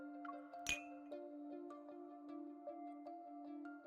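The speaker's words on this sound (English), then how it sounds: "The ice cubes swish around, making soft clinking sounds." Ice cubes clink softly in a whiskey glass in the video game Love and Deepspace, a sharp chink followed by light scattered taps over a sustained musical tone.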